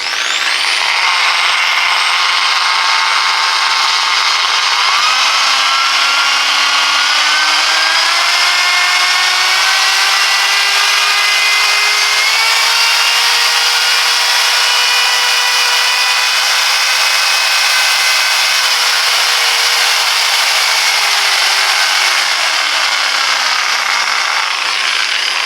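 Parkside PPM 800 A1 spot-repair car polisher, 800 watts, running continuously at a loud, steady whine whose pitch climbs and then falls as the speed changes, with no voices over it.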